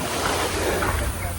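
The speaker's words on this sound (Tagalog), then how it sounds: "at makarinig ng mga hampas ng tubig dagat." Sea waves wash on the shore of Samal Island, a steady broadband surf roar with wind buffeting the microphone, continuous and fairly close for the whole short stretch.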